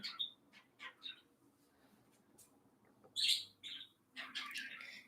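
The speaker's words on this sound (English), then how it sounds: "that obnoxious loudness that you hear behind me is the parakeet lady" Parakeet calls somewhere behind, a run of sharp chirps and loud squawks in uneven bursts, some of them piercing, with quiet stretches between.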